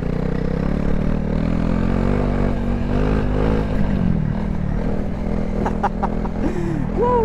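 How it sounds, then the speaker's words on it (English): Honda CRF300L motorcycle riding off-road on trails in Italy, a steady engine drone with shifting pitch and wind buffeting throughout, heard from the rider's position, with brief sharper sounds near the end. "It's so much fun driving the Honda here with the Tenere."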